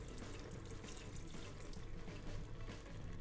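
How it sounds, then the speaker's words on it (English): Red wine poured into a pan of simmering Bolognese sauce, a steady soft liquid splash and sizzle lasting a few seconds, faint and continuous with no talking. "a glass of red wine, which we are gonna pour in there."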